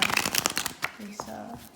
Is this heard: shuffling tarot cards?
yes